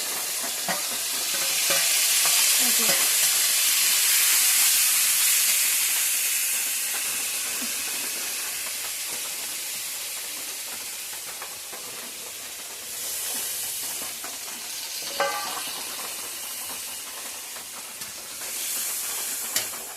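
Garlic, ginger, onion, cumin and chili fry in hot oil, making a loud, hissing sizzle up close that swells and eases, with occasional scrapes and knocks of stirring.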